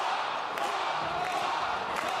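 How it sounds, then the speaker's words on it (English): Arena crowd cheering and roaring at a professional bowling league final at Bayside Bowl in Portland, Maine, a loud continuous wall of voices with a few sharper shouts and thumps, under faint commentary. "listen to this crowd"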